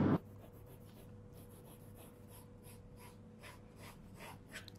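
A measurement is marked on knitted fabric for a dress: soft, repeated scratching strokes, quiet and close, after a brief thump at the start.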